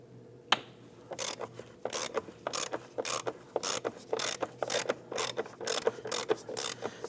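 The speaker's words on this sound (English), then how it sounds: "I'm going to run an extension down there," A ratchet on a long socket extension loosens the 10mm battery clamp bolt in a 2009-2017 Volvo XC60. It gives repeated bursts of quick, close metallic clicking, several short strokes in a row with brief pauses between.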